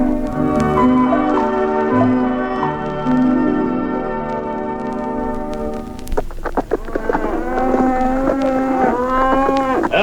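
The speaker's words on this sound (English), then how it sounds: "Sure a fine herd of cattle you got here." Cattle low over and over in a radio drama, set on an outback cattle station. The calls are loud, drawn out and overlapping, like a herd close by with no voices, and faint bell-like tones ring through the background.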